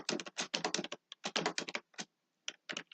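Quick bursts of keystrokes on a computer keyboard as code is typed, crisp and close, in uneven clusters with short pauses and no talking.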